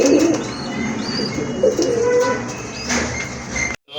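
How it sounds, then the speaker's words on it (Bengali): Close male pigeon cooing in low throaty pulses, several soft coos over a few seconds, with faint bird chirps and background hum behind it. "বাম পাশেরটা কিন্তু নর কবুতর"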